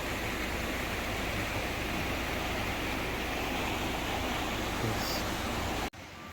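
Waterfalls beside a roadside bathing spot near Skole, a steady loud broadband roar of rushing water filling the whole stretch, cutting off abruptly near the end.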